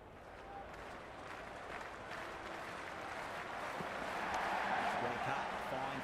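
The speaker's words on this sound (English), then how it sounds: "already the crowd is up and about" Stadium crowd applause and cheering in the Cricket 26 video game, a dense continuous roar of clapping that swells louder toward the end.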